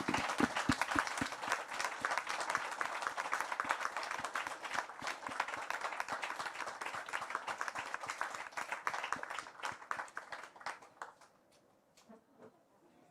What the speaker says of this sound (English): just a round of applause for all involved.